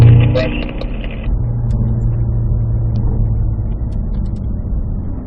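Cadillac CT5-V Blackwing with six-speed manual on a race track, engine braking under compression: a steady low engine drone and rumble that eases off after an initial louder burst, with a voice speaking over it early on.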